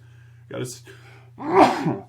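A single sharp sneeze from a podcast host comes after a short intake of breath and stands out loud and close in a quiet room.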